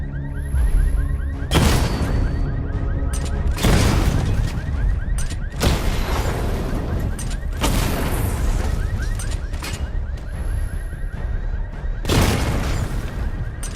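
The Batmobile's weapons fire at targets in Batman: Arkham Knight, with a series of loud, heavy blasts and booming impacts every two seconds or so over a steady mechanical hum.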